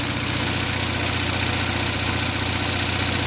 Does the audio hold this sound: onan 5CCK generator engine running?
yes